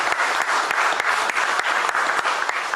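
A crowd at a sports awards press conference applauds, a loud, sustained patter of many hands clapping evenly throughout.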